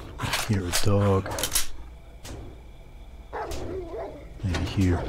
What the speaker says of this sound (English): Hear a dog.